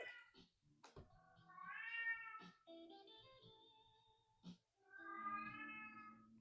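A pet cat meows loudly several times, drawn-out wailing calls with short sharp sounds between them, close to the microphone with no talk.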